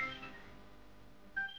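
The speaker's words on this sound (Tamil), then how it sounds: "அம்மா ரிங்க போகுதுமா" An outgoing phone call ringback tone sounds faintly and steadily in a Tamil TV serial scene, with a brighter tone rising near the end of the short stretch.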